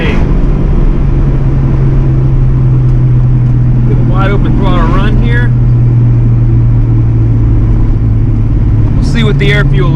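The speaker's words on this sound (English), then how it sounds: "Get a wide open throttle run here." A 1986 Mustang GT engine with a wideband air-fuel gauge runs at wide open throttle, a loud steady drone filling the clip while voices talk briefly over it.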